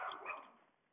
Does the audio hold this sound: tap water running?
no